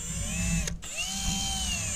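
A power drill bores through layered material, a loud continuous whine that briefly cuts out and then spins back up with a rising pitch.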